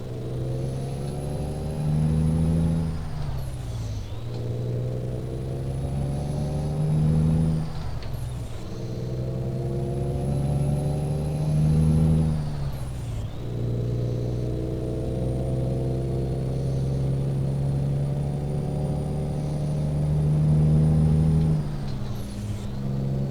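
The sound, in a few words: truck with Cummins 485 ISX engine in Euro Truck Simulator 2 video game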